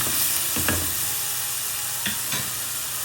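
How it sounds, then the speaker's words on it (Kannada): Ginger garlic paste sizzles in a hot pan while curry is being cooked, a steady hiss broken by a few soft scraping stirs of a spoon, with no voices. "ಜಿಂಜರ್ ಗಾರ್ಲಿಕ್ ಪೇಸ್ಟ್ ಹಾಕಿ ಸ್ವಲ್ಪ ಫ್ರೈ ಮಾಡಿ"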